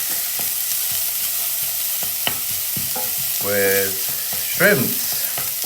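Onions and garlic sizzle steadily in a hot pan for a shrimp dish with white rice, with occasional scraping stirs, close and continuous while a voice speaks briefly.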